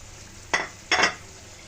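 Loitta fish fries in a pan with sliced green chillies and chopped coriander as a spoon gives it two short stirring strokes, each a quick scraping swish over a faint background sizzle.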